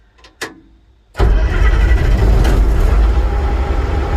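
A rebuilt Perkins diesel engine is started with the clutch engaged in neutral: a couple of brief clicks and a short cranking burst, then it catches and settles into a loud, steady running rumble.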